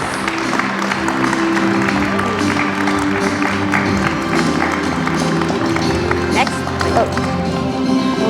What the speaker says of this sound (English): can we give Mr. Robert Kowalski, aka BK, another big round of applause